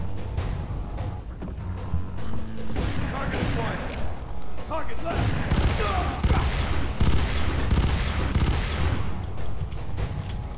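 Gunfire in the first-person shooter F.E.A.R. 3 crackles in loud, rapid bursts of overlapping shots with a few pauses, a voice talking briefly over the shooting.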